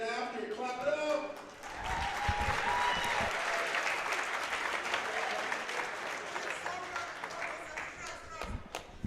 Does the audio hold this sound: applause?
yes